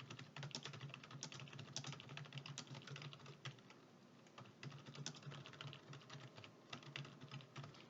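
Someone types on a computer keyboard, making a steady run of soft, quick key clicks with short pauses, close-miked and faint, with no voices.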